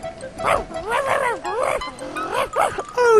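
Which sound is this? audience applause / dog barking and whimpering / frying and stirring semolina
dog barking and whimpering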